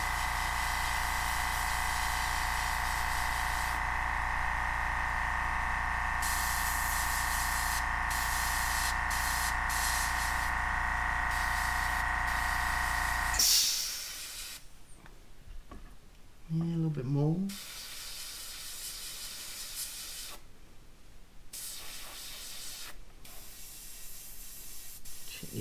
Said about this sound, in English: this is how you get your detail work with an airbrush